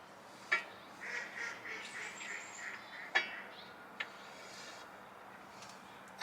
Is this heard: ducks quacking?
yes